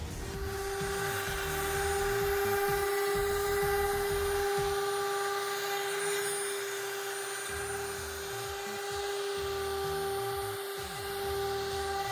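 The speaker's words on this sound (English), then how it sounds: "So I'm engraving the numbers in a small area on the door." A rotary engraver whines at a steady high pitch as it engraves numbers into a wooden cabinet door, with a continuous buzzing hum and faint grinding variations throughout, no voices.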